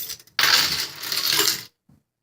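A set of keys drops and jingles for about a second in a bright metallic clatter, then goes quiet apart from a tiny final tap.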